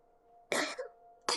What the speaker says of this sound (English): so I can't mute every time I cough anymore.